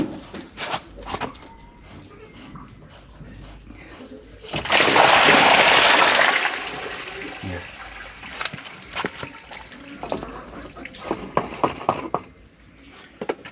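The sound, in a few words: dirty water being released and flowing out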